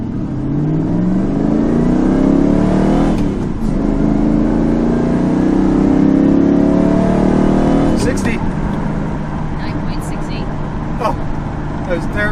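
A Lamborghini Countach replica pulls away hard on a 0 to 60 run, its engine note climbing through two long surges with a gear change between them, loud and close, while people talk alongside.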